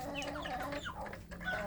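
Free-range village chicks feed together at a special feeding spot outside their coop, giving off a steady, busy chorus of overlapping cheeps and soft clucks close by, with no talking.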